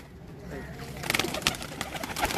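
Soft pigeon coos and fluttering on a rooftop loft, close and moderately quiet, with faint background voices; a brief louder burst of flapping or movement comes in the second half.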